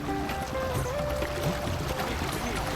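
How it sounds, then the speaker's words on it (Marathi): Water sloshing and splashing as people wade through knee-deep water in the rain, with voices talking in the background. "सर्वजण आता वॉटर क्रॉसिंग करतायत"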